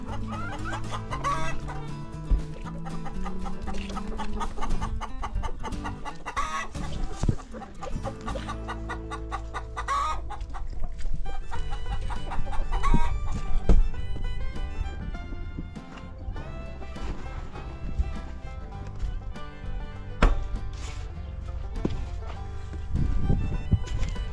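Green-legged Partridge chickens cluck continuously at close range, a busy free-range flock with overlapping calls and some shuffling, no talking.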